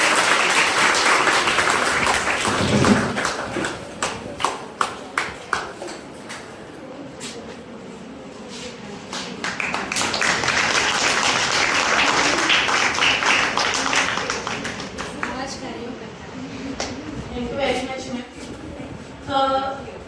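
Applause from an audience at a certificate ceremony for World Disability Day, bursts of clapping that rise and fade across the stretch, with people talking in between and over it in a hall.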